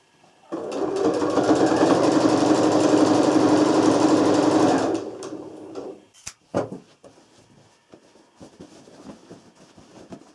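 A sewing machine stitches a child's quilt in a steady, fast mechanical whir for about four seconds, then stops, followed by a few clicks and handling sounds.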